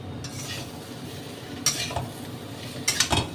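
Potato masala stirred with salt in a pan over a raised gas flame: soft continuous scraping with a few sharper spoon-on-pan clacks near the end, no voices.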